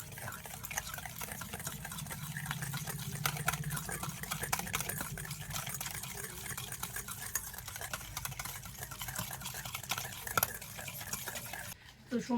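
Batter made with powdered sugar, a pinch of salt and white oil is beaten steadily by hand, giving a continuous soft, wet sloshing and tapping close by, with a faint voice in the background.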